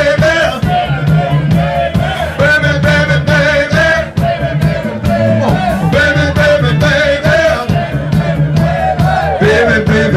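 A live blues club crowd at the Red Lion joins in shouting along with the band, rhythmic group yells over loud, continuous music with drums and instruments, dense and close throughout.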